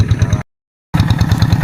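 A tractor engine idles close by while farmland is being worked, thumping in a fast, even pulse; the sound cuts out briefly to silence, then returns at the same rhythm.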